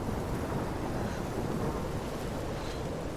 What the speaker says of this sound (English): Look at that storm.